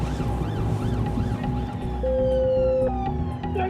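Police car sirens wailing on a motorway with blue lights flashing, a continuous rising and falling siren over steady road and engine rumble, fairly close and loud.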